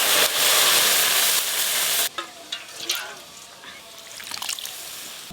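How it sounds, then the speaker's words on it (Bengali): Mustard oil crackles and hisses hard in a kadai tempered with mustard seeds, dried red chilies and bay leaves. Then chalta dal is poured in and the roar drops to scattered sputters and pops. "এবার ডালটা ছকে দেব।"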